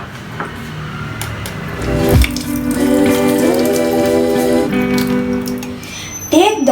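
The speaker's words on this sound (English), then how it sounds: "drain the water." Water being drained in a kitchen sink after soaking cashews, a running, splashing pour with tonal gurgles and a brief clatter near the end.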